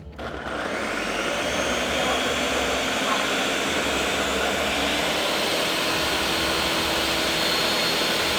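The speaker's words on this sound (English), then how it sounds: "Now we have everything in the mixer, we're gonna blend it." A stand mixer blends Dutch baby batter with lemon zest, starting up and settling into a loud, steady whirring drone that holds without a break.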